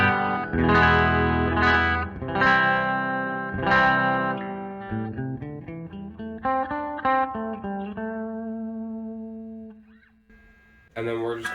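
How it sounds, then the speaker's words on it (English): Clean electric guitar chords and single notes ring out with a Zoom G2 reverb tail, strummed in phrases, then fading before a brief final strum. "This is just clean with the Zoom G2 reverb"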